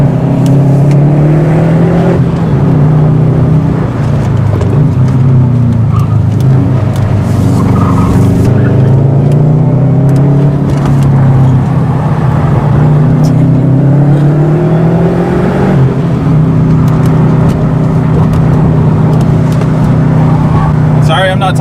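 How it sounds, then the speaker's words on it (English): A Subaru's engine revs hard through a canyon road, loud and close, its pitch repeatedly climbing and dropping through downshifts and throttle blips for the whole stretch. "The downshifts on it are so great."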